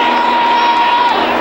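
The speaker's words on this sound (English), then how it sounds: "A sellout crowd at RFK," A sellout stadium crowd roars at a 1981 Giants versus Redskins football game at RFK, a loud dense cheer with a broadcast tone running underneath.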